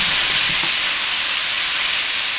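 Bacon sizzling with brussels sprouts in a pan, a steady close hiss and crackle that holds at an even level throughout with no talking over it.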